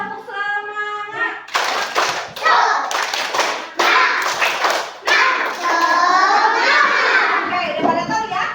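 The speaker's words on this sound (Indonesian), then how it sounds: "Gini nih seperti tepuk semangat." A standing school class performs the tepuk semangat cheer, bursts of rhythmic group clapping mixed with children's shouts and a teacher's voice, loud and close in a classroom.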